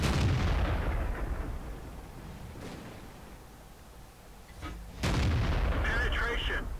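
Tank cannon shots in a tank combat video game with a Black Prince and Obj 704, heavy booming blasts opening and closing the passage with a quieter rumbling lull between, loud and close.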